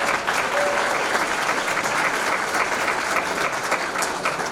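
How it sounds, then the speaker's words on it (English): Sustained audience applause at a Hispanic scholarship fund gala, dense, steady clapping from a large crowd that fills the room at an even level from start to finish. "give a round of applause for Latinos Unidos Scholarship"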